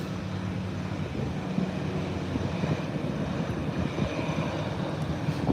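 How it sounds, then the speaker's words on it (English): A small aircraft taking off from an airport runway, a steady, broad engine drone that holds at a constant level throughout with no talk. "A small craft is now occupying the runway,"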